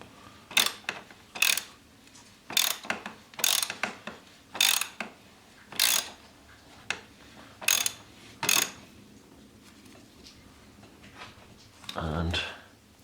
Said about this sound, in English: we're going to finish that now with the ratchet, 32mm socket and the extension